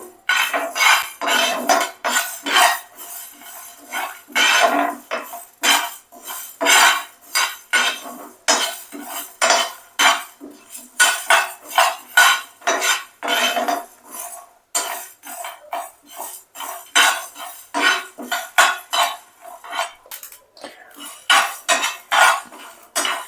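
Chicken frying on a low flame in a pan for pickle, with a spoon scraping and clinking against the metal in a steady, busy rhythm of close stirring strokes throughout.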